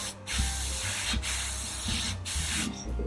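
Polyurethane varnish is sprayed onto a Mosquito FB Mk. VI model aircraft in short hissing aerosol bursts, four or five close spurts separated by brief pauses.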